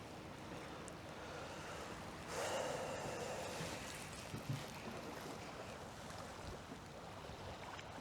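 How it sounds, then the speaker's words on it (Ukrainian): Wind gusts blowing over the Dnieper river during a fishing trip, a steady rushing buffet with a stronger gust swelling midway, plus a couple of small knocks, with no voices. "Вітерець дуже зараз е некомфортний, незручний і такий паскудний."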